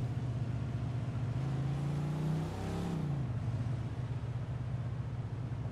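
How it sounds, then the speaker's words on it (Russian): Car engine in the video game Mafia 2, a steady loud droning hum that rises in pitch around the middle as the engine revs, then settles back into a continuous purr. "движок у него прям как котенок мурлычет"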